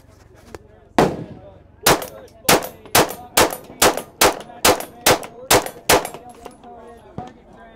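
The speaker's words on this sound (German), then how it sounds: "für zwei Waffenarten, für die SIG und für die Glock, schieße ich mal ein paar Schuss" Glock and SIG pistols firing at an outdoor media range day, a single shot followed by a rapid string of about ten sharp, loud reports in steady rhythm, then a faint final pop.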